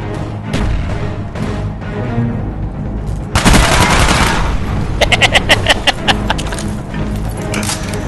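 Shooter video game gunfire: a loud close burst followed by a quick run of sharp rapid shots, over steady background game noise.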